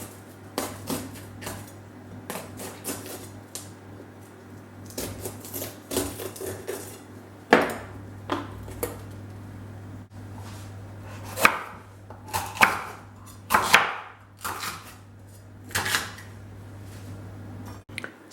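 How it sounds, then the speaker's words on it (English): A knife chops red peppers into thick slices on a board, giving irregular bursts of sharp, close cuts with a steady low hum underneath and short pauses between strokes. "The next thing to do is cut the peppers into thick slices."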